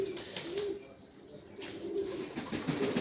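Pigeons at a farm coo in repeated, overlapping low burbling phrases close by, with a brief lull midway before the calls swell again.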